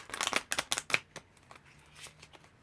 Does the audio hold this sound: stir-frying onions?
no